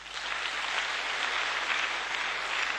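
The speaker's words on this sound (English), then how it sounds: "A round of applause, please." An audience applauds at a youth session of the European Parliament, dense continuous clapping from many hands that stays even and fairly loud from start to end.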